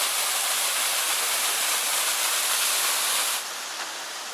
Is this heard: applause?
no